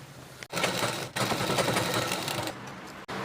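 A sewing machine stitches the folded edge of a chudidhar bottom pocket, running in rapid close bursts broken by short pauses, with no one talking.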